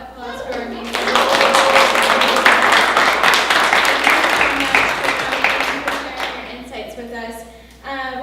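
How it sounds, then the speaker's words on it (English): An audience at a panel discussion breaks into loud, sustained applause and cheering that lasts several seconds before fading as a voice resumes. "can we get a round of applause for our amazing"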